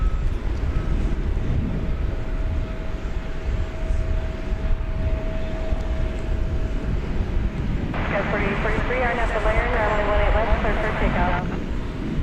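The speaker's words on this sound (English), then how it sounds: "Here goes this 5-year-old 767." A five-year-old Boeing 767 taking off at DFW Airport, a steady, loud jet roar from a distance with rising engine whine toward the end, while a voice talks over it.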